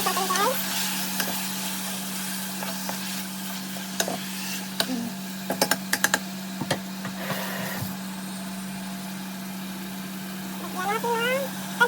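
A spoon scrapes and clatters in a pan of frying food for an Ilonggo valenciana dish, with steady sizzling underneath, a low constant hum and several sharp knocks against the metal.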